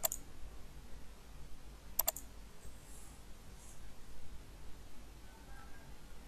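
A few quiet computer keyboard keystrokes click while a web search is typed: one tap at the start, then a short cluster about two seconds in, set against faint hiss and near-silence.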